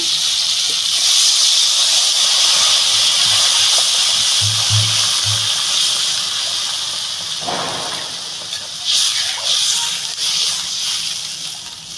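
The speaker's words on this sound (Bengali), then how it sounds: "এবার আমি জল দিয়ে দেবো বন্ধুরা পরিমাণ মতো।" Water poured into a hot pan of curry with teasel gourd, potato and chela fish gives a loud, close hiss and steamy sizzle that slowly fades. A second surge of bubbling and spluttering follows later.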